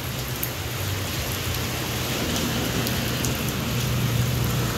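Steady rain pours down in Dait during a sudden downpour on a hot day, a dense continuous hiss with scattered drop patter, no voices, holding even throughout.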